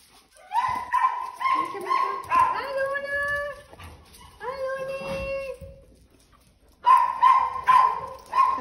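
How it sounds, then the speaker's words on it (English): Several dogs, including a Boxer, yip and howl in drawn-out, whining bursts, pausing briefly before another loud round of high-pitched calls. "Guys over here barking."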